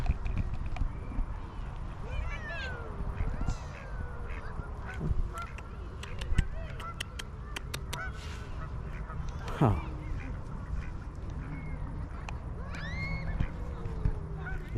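Geese honk and ducks quack outdoors in Sweden in scattered calls, some close and some farther off, over a steady ambient hum, with a brief spoken word.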